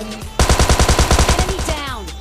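A burst of automatic gunfire in the video game PUBG Lite, a dozen or so rapid, evenly spaced loud shots followed by a short ringing tail.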